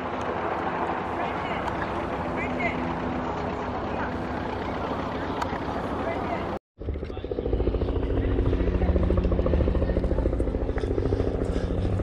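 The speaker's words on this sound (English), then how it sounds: "Let's get back over the chopper for a sec." A helicopter sits near the crowd at a spring water festival, its engine a loud, steady whine with a thudding rotor. People talk nearby, and after a brief cut the rotor noise grows heavier.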